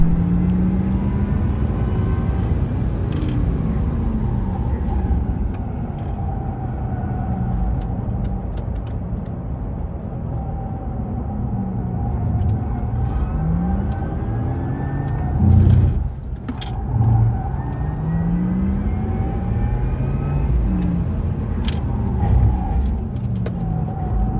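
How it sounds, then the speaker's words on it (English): A modified Subaru WRX running laps on a race track during a track day, its engine droning steadily at high revs with rising and falling pitch as it shifts and passes, heard from inside a car. "That is a Subaru WRX modified."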